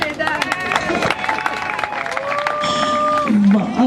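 An audience at a gathering applauding the ladies, a burst of clapping mixed with crowd chatter and lively cheering, building toward the end.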